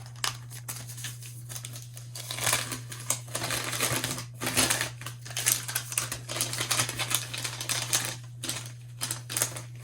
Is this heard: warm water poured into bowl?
no